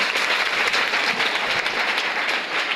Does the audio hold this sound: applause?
yes